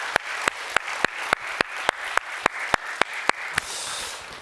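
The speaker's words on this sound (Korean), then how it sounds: "우리 하나님 앞에 영광의 박수 올려드리십시다" A Korean church congregation at a Sunday Thanksgiving worship service claps in steady, rhythmic unison, with sharp evenly spaced beats over a continuous wash of crowd noise that swells slightly toward the end.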